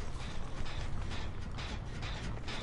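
Mechanical ratcheting and creaking, like gears being worked and cranked, runs continuously at a low, steady level as a generator is repaired in the game Dead by Daylight.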